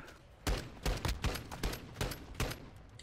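Hip-fired gunshots from the Attack 56 in Call of Duty ring out in a rapid burst of about eight sharp cracks over roughly two and a half seconds, loud and close with no talk.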